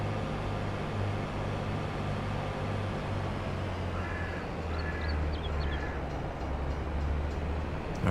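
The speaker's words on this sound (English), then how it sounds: "that train zips along pretty good through here" A train in Farming Simulator 22 runs past as a steady low rumble with a faint tonal hum, while crow-like caws chirp briefly midway through.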